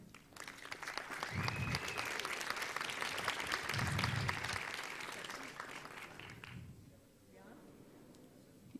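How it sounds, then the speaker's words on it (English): A conference audience gives a warm round of applause for an incoming speaker, steady clapping from many people that swells for several seconds and then tapers off, with a few voices underneath. "a clap for her."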